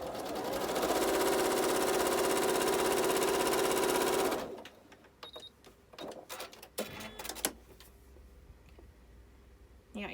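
A home sewing machine runs its default stitch across a pinned quilt block, a loud steady mechanical whir for about four seconds, then stops, followed by quieter clicks and handling knocks.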